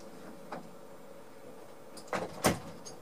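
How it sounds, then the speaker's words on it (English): Door in a house opening and closing, picked up faintly at a distance: a soft knock early on, then a pair of muffled thumps and a sharper bump near the end over a low steady hum. "So now I'm going to open the door"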